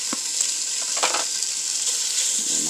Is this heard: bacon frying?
yes